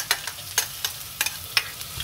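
Minced garlic and shallots fry in oil in a pan over a steady, close sizzle, with sharp spatula scrapes and stirs at irregular intervals and no talking.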